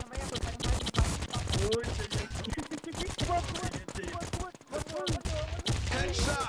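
Gunfire in a shooting video game, with dense, rapid shots crackling almost continuously, close and loud, mixed with other game sounds and a voice talking over it.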